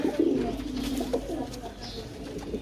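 Paired pigeons coo softly and steadily throughout, a low murmuring close by with faint chirps mixed in and a voice speaking briefly over them.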